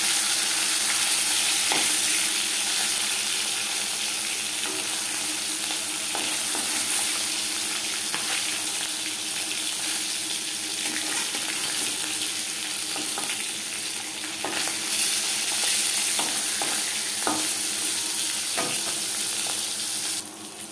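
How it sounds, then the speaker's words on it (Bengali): Chala fish frying in hot oil in a pan, a steady close-up sizzle that runs unbroken for about twenty seconds with occasional crackles and pops. "মাছ ভাজা হয়ে গেছে"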